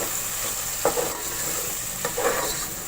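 Tomatoes fry in oil with browned onions in a steady, loud sizzle, broken by two scraping stirs of a spoon against the pan.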